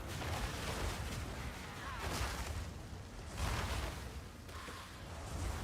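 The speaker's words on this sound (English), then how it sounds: "because of all the explosions" Dense, continuous bursts of explosions in the Path of Exile 2 video game, rumbling booms and whooshes overlapping in loud waves with no clear gaps.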